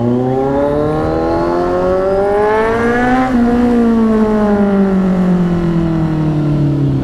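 Kawasaki Z1000 motorcycle with an SC-Project 61mm exhaust revs up close and loud, its note climbing steadily to a peak, then sliding back down in one continuous smooth sweep, with no talking.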